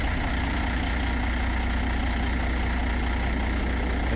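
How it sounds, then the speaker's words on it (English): A C15 truck engine idles steadily in American Truck Simulator, pulling a Peterbilt 362 Cabover with cattle; a constant low rumble fills the whole stretch, loud and unbroken, with no talk over it. "the engine that you're hearing is a paid Z-Mod engine. It's the C15 MBN engine and sound pack."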